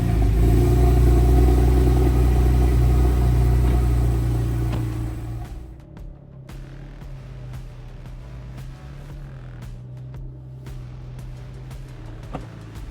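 A 2004 Porsche 996 Turbo, a 911 Turbo, idles loudly at first, then settles into a lower, steadier running note with occasional clicks and knocks nearby.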